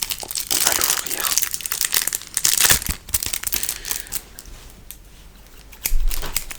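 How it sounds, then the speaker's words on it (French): Crisp crinkling and snipping as scissors cut open a foil Lorcana booster pack, close and loud in bursts with quieter rustles between, no talking. "On va prendre des ciseaux."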